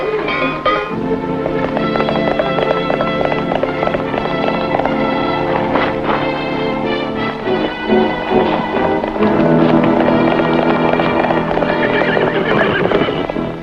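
Horse hooves clip-clop rapidly over a busy music score in the Roy Rogers western film Grand Canyon Trail, with a horse whinnying in the mix; loud and continuous throughout.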